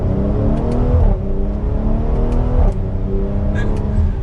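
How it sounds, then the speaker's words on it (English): A Mercedes-AMG GLC 43 4Matic accelerates hard from second gear, a loud, steady engine and exhaust note that rises in pitch, with a brief dip near each gear change and small exhaust pops crackling on top. "I'm sure you guys can hear the small pops in that exhaust."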